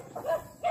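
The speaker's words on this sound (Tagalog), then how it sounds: "Limang aso, tatlo yung kalaban, atras kami sa aso" Dogs bark twice in quick succession at a moderate distance outdoors on a hillside, two short tonal barks, somewhat faint, with no talking over them.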